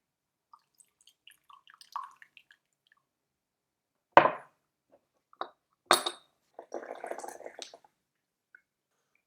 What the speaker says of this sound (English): and then we'll pour out the teapot